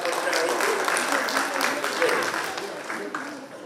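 An audience claps for the performers at the closing ceremony of a Marathi literary gathering: a dense, sustained wash of applause that fills the whole clip and tapers slightly near the end.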